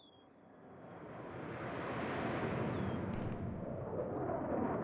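Cannon artillery fires in a real-time strategy video game, a deep rumbling roar that builds over several seconds and stays heavy and sustained, with a faint high tone at the start and no voices.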